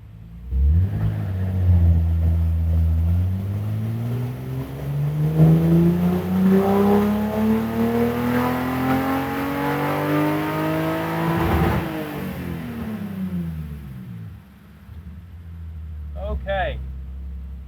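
A BMW E30 engine on a dyno climbs through a ramp pull, a loud, close rev rising steadily in pitch for several seconds before falling back off, then a short burst.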